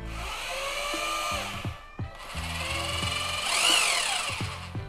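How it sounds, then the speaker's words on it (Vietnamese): A Bosch three-function rotary hammer runs in plain drilling mode, a close, loud motor whine that spins up, cuts off briefly near the two-second mark, then revs again and rises in pitch. "Đầu tiên thử chức năng khoan thường"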